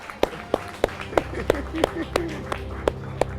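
Crowd clapping in slow unison at a presidential speech, sharp evenly spaced claps about three per second, with voices talking over them.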